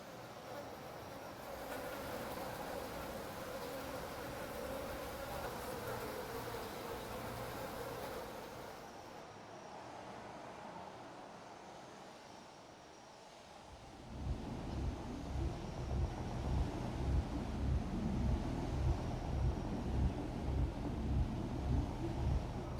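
Dark ambient soundscape from the side-scrolling game Limbo: a steady buzzing, insect-like drone that thins out midway, then shifts to a deeper rhythmic low pulsing rumble, continuous with no voices.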